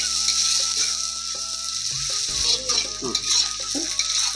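Steady sizzling of onions frying in a pan on a clay stove, with occasional stirring scrapes and a few clinks; a rooster crows faintly in the background.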